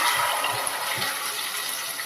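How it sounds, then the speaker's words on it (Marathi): Water poured from a vessel into washed dal sitting in a cooking pot, a steady, close splashing rush that runs for the whole stretch with no one talking. "आणि थोडं पाणी घालून घेते"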